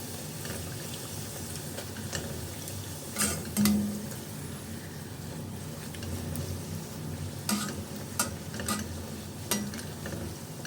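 Tomato puris frying in hot oil, a soft continuous bubbling sizzle with scattered ticks and a few brief clinks and scrapes of a utensil, close but fairly quiet, with no one talking.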